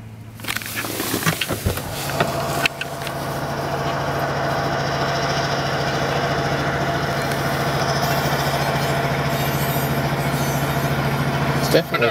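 A CN diesel switching locomotive in Brandon Yard runs with its engine throttled up and straining, a loud, steady low rumble with harmonic drone that holds for the whole stretch and swells slightly near the end.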